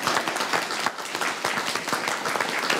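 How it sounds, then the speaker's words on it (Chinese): Warm, continuous applause from a crowd at a celebration banquet welcomes an arriving guest, dense and fairly close, with no talking over it. "让我们用热烈的掌声表示欢迎"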